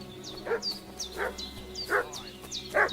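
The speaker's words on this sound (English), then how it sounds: "What's that dog making such a fuss about?" A dog barks in Kingdom Come: Deliverance 2, giving four evenly spaced barks at moderate distance over a low ambient hum, with faint high chirps between them.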